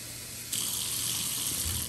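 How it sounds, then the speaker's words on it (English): Tap water gushes steadily into the refill reservoir of a HOMTOYOU spray floor mop, starting abruptly and running as a close, even stream. "I usually just add water"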